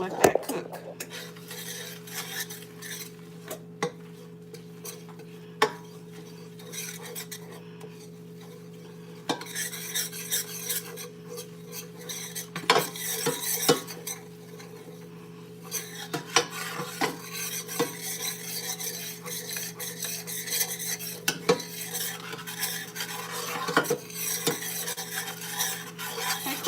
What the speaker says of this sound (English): Put a third of a cup butter in here. And we're just gonna stir it up